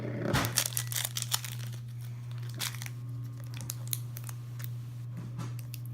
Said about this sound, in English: I think I might have to use my little scissors they gave me.